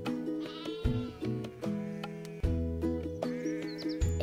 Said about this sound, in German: Das sind unsere Schafe.